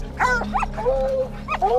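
Dogs out with horses yelp and whine in short, high-pitched bursts close by at a mountain lion stuck in a crevice, over a steady low hum.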